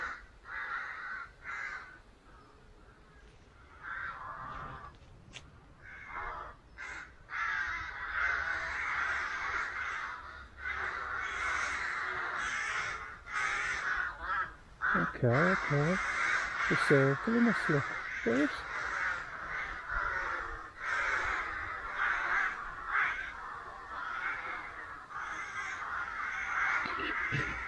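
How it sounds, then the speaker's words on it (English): Crows caw repeatedly while circling overhead near a church on a countryside walk in Lilleshall, their harsh calls coming in bursts over steady outdoor background noise as people talk throughout. "Oh my days, the crows are circling us."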